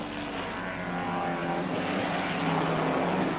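Racing saloon cars, including a big 5.7-litre V8 Chevrolet Camaro, at a 1971 British Saloon Car Championship race at Crystal Palace: a steady, sustained engine roar with a broad droning tone.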